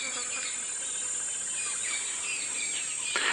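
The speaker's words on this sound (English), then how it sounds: "the sound of the cicadas." Cicadas call at sunrise in the bush on a safari drive, a steady, high, buzzing drone that fills the whole stretch, with faint bird calls in the background.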